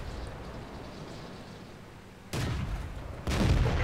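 Tank guns firing in a tank video game, an M7 Priest battle, with two heavy booming blasts about a second apart rising out of a steady rumbling background.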